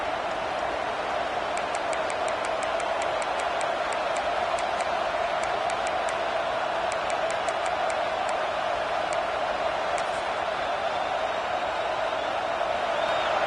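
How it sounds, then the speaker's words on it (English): Stadium crowd in a football video game, a steady loud roar of cheering and noise filling the whole stretch without a break, with faint high clicks scattered over it. "Listen to this crowd just shaking the girders of this place, trying to help their defense."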